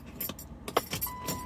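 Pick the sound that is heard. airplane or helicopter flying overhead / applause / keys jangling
keys jangling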